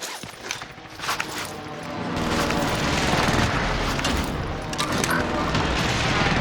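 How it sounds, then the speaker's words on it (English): A barrage of Call of Duty precision airstrike explosions rolls in as a dense, rumbling series of booms and blasts that swells into sustained heavy roaring, with game voice callouts heard over the start. "precision airstrike incoming"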